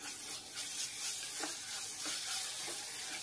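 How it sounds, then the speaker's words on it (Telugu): Masala paste frying with onions and green chillies in a pan for a Konaseema-style mutton curry: a soft, faint, continuous sizzling hiss broken by a few gentle spoon strokes. "ఈ మసాలా ముద్ద వేసేసి 5-6 నిమిషాలు అలా వేయించుకోండి"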